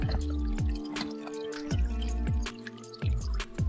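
Water drips and splashes in a quick, uneven rhythm at a mountain spring while bottles are being filled on a hiking trail, close and clear with no talk.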